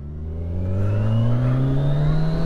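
A Kawasaki Ninja 1000 SX motorcycle pulls away from a standstill, its engine note climbing steadily in a smooth rising drone, loud and close, with wind building beneath it.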